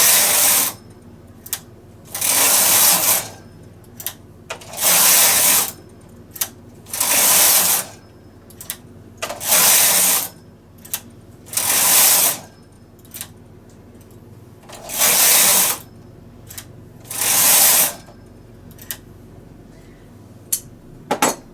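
A knitting machine carriage passes back and forth across the needles while short-rowing a crocodile stitch, giving about eight loud, sustained mechanical rasps of a couple of seconds each, separated by quieter clicks as needles are moved by hand.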